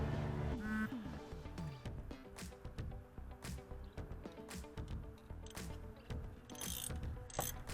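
A ratchet with a 10 mm socket tightens a bolt on a Toyota Camry alternator, giving quick, faint clicking runs of the pawl interspersed with small metallic knocks.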